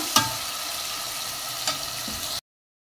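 Chopped tomatoes for achari dal sizzle in a hot pan with a steady, close hiss. A couple of brief clicks from stirring break through before the sound cuts off abruptly. No one speaks.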